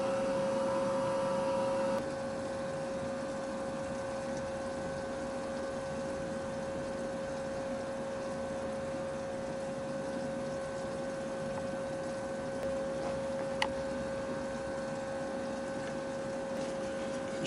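An AnaJet 3000/6000 series garment printer hums steadily as its pump flushes and fills the ink lines. The whine and liquid flow run continuously at a constant level, with a faint click partway through.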